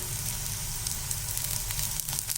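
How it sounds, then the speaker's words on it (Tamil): Oil sizzles steadily under a wheat-flour adai cooking in a pan, a close, even crackle that holds throughout with no talk. "இப்போ இன்னொரு பக்கமும் நம்ம லைட்டாக எண்ணெய் விட்டுக்கலாம்."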